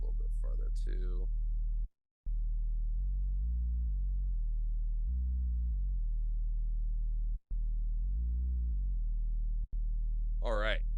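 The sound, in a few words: synthesized sine wave with added harmonics, Ableton Operator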